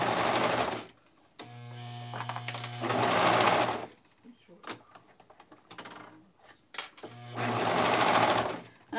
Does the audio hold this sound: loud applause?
no